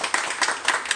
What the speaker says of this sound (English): let's give a big round of applause to our host,